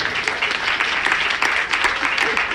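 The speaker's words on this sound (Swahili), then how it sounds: "Wapi makofi kwao?" Steady applause from a crowd at a promotional event, dense continuous clapping that holds at an even level throughout.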